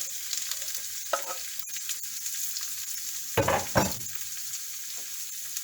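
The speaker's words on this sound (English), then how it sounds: "I'm just going to saute these." White and purple onion, broccoli and green and red peppers sautéing in a pan, a steady close sizzle broken by a couple of louder stirring scrapes near the middle and a few lighter clinks.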